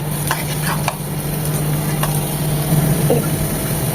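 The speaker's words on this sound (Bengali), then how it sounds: "যেহেতু গাজরটা হার্ড তাই এটাও দু মিনিট ভেজে নেব আদা রসুনের সাথে" Chopped carrot frying with garlic and ginger in a pan, giving a steady close sizzle with a few light scrapes and clinks of stirring. No voice is heard over it.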